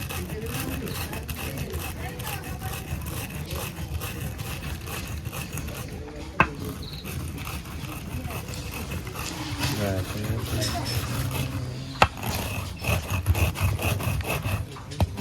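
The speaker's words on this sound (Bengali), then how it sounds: "আমরা এখন চালটা বেটে নেবো পিঠে করার জন্য" Soaked rice being ground for pitha, a steady rhythmic scraping and rubbing of grain against a grinding surface, close and continuous, with occasional sharp knocks and people talking at times.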